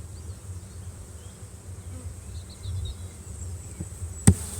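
Honey bees at an open brood hive during an inspection, a steady low buzzing hum throughout with a sharp knock near the end from a tap on the frames.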